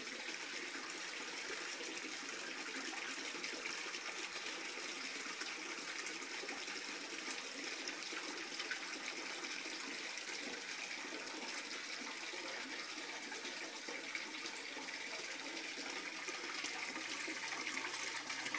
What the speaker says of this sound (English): right now what we have is the bell siphon activating on one of the tanks